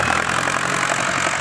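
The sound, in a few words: Ford New Holland 6610 tractor engine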